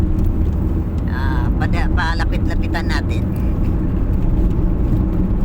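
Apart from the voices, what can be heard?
convoy of cars driving on the road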